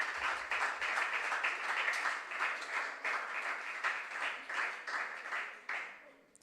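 Audience at a regional junior science and maths quiz final clapping for a school team: rhythmic, fairly dense group clapping with a pulsing beat, mixed with voices throughout.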